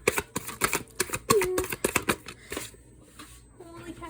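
Tarot cards are shuffled by hand in quick riffling bursts, a string of close, sharp card flicks that slows toward the end, with a voice briefly audible.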